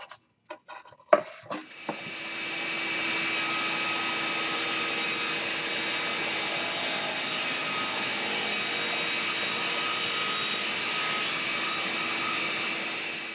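A table saw with a rip fence shaves the edges of lumber boards: a few sharp clicks, then the motor spins up into a loud, steady whine that runs on without pause.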